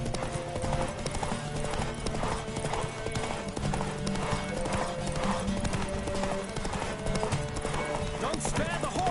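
A horse named Witcher gallops with rhythmic clip-clop hoofbeats, a whinny breaking through amid music and other game sounds.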